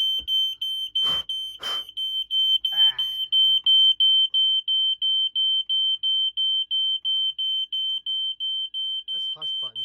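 A smoke detector in an addressable fire alarm system, sounding during a test, emits a loud, steady high-pitched alarm tone that pulses rapidly and evenly, with a few short bursts of rushing air near the start.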